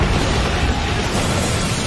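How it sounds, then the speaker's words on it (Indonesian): A gunpowder explosion in the anime Drifters bursts as a loud, dense, roaring blast of noise sustained for about two seconds with a rumbling low end. "Para elf sangat terkejut melihat efek ledakan bubuk mesiu."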